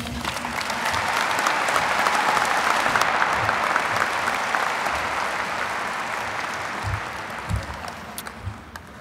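Applause from a large crowd at a high school graduation ceremony in an arena, a sustained, reverberant roar of clapping that swells, then thins out toward the end as scattered claps and low sounds remain.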